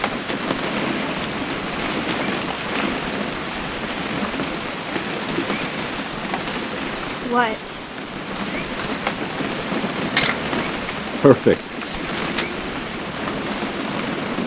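Steady rain falls in the video game What Remains of Edith Finch, a continuous hiss of drops on surfaces with faint rumbles, and a few brief voices speak over it.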